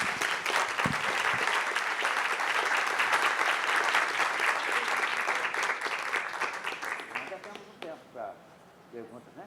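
An audience at a lecture gives the speaker a loud, dense round of applause that holds for several seconds, then thins into scattered claps and fades, with a voice near the end.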